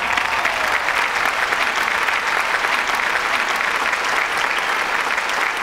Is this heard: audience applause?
yes